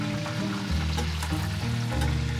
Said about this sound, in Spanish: aquí mi mamá, como pueden ver, está friendo pollito.